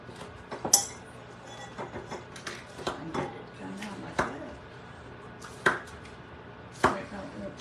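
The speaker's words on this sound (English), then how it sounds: "I'm down here cutting up some green onions, a purple onion, okay" Knife chops through green onions, purple onion and tomato on a board, a string of sharp, irregular near thuds with some light clinks, loud against a quiet kitchen.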